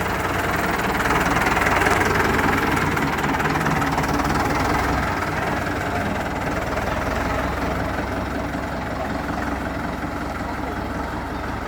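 A Ford 5000 tractor engine runs steadily at a close, loud, rough idle with a heavy, continuous knocking rumble that holds level throughout.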